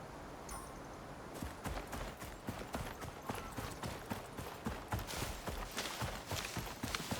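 Steady, fairly close hoofbeats of a horse clip-clop in a regular rhythm in the survival video game Icarus, starting after a quiet second and continuing to the end.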